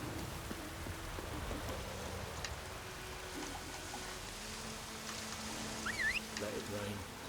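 Steady rain falls in The Witcher 3, a soft constant patter and hiss over several seconds, with a faint birdlike chirp near the end.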